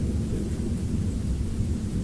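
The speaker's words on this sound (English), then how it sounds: "it is an absolute relentless lightning storm" Thunder during a relentless July lightning storm in Oakville, Ontario, a deep, continuous low rumble rolling steadily with no voices.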